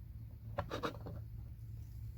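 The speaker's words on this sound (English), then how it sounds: "I got my pipe marked where I need to cut it" A marker scratches a few quick strokes across a metal charge pipe for a Mitsubishi Evolution being cut for a custom build, close and faint in an otherwise quiet workshop.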